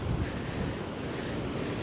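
Waves wash onto West Strand beach on a windswept day, a short, dense, steady roar of surf mixed with wind buffeting the microphone, with no voices.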